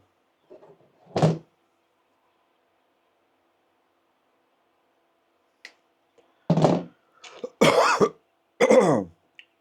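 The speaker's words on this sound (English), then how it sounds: "Again, sorry if I cough a little bit." A man coughs: one sharp cough early on, then after a long silence a cluster of harsh throat-clearing coughs in quick succession, close and fairly loud, with a faint tap or two between them.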